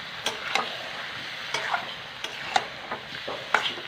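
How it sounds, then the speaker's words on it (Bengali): Chicken curry is stirred in a pan on a gas stove, with soft scraping and clicking spoon strokes over a faint steady sizzle, close and quiet. "এবার ভালো করে নেড়ে চেড়ে"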